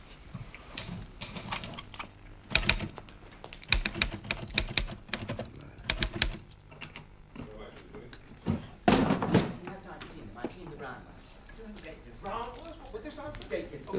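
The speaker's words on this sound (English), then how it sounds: "Isn't that Willie's typing" Typewriter keys clack in irregular bursts with sharp thumps and carriage knocks, loud and close, while people speak between and over the strikes.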